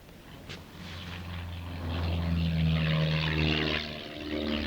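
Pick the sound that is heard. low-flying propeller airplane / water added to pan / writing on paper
low-flying propeller airplane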